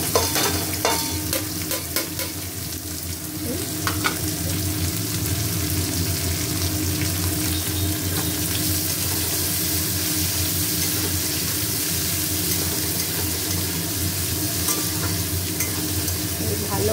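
Vegetables being stir-fried in a pan with shrimp, cashews and raisins, giving a continuous close sizzle with busy stirring and scraping that runs steadily throughout, no voices.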